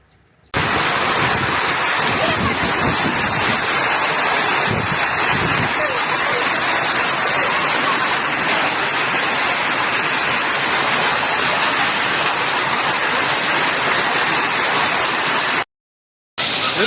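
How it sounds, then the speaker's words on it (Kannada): A heavy hailstorm with rain lashes down in Ripponpet, Karnataka, making a loud, continuous roaring wash that holds steady for about fifteen seconds before cutting off abruptly near the end. "ರಿಪ್ಪಂಪೇಟೆಯಲ್ಲಿ ಭಾರಿ ಮಳೆ. ಅದು ಏನು ಆನೆಕಲ್ ಮಳೆ"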